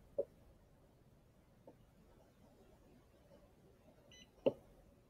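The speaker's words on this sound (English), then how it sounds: "hold the menu key till it beeps" A water softener control unit gives short, faint electronic beeps in a quiet room: one near the start, a softer one shortly after, and a sharper one near the end.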